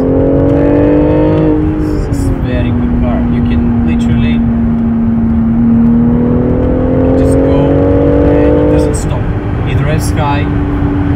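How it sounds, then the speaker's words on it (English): Full-throttle acceleration of a BMW X4 M40i with the B58 inline-six: a loud, rising engine note that climbs through gears, dipping briefly at shifts, heard from inside the cabin with some voices under it. "As soon as you switch to Sport or Sport Plus, floor the throttle and it just rockets."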